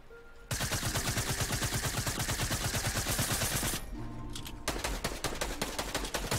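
Rapid automatic gunfire in the Fortnite battle royale, loud and close, one long sustained burst that breaks off, followed by a brief lull and then further sharp, spaced shots.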